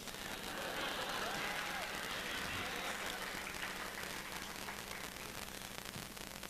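Applause from an audience at a talk on fixing elections, a continuous wash of clapping held at an even, fairly distant level, with faint murmuring beneath.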